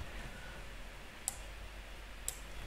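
Two sharp, faint clicks of a computer mouse about a second apart over a quiet, steady room hum.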